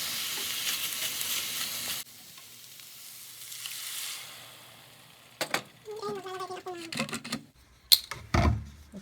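Garlic and onion frying in oil for dinuguan, a soft hiss of sizzling at first, then quieter, followed by brief stirring and clattering of a utensil against the pan near the end.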